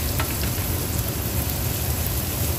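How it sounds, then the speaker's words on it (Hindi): Onions frying in a pan for Maggi noodles, a steady dense sizzle and crackle running close and loud throughout with no voices over it. "हम लोग प्याज को भून रहे हैं अच्छी तरीके से"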